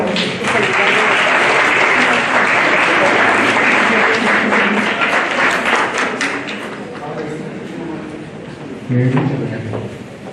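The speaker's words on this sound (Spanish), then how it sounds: "Recibámoslo con un fuerte aplauso." An audience at a conference on post-traumatic growth applauds to welcome a speaker, a loud, full burst of clapping that eases gradually, with a few louder knocks and murmurs near the end.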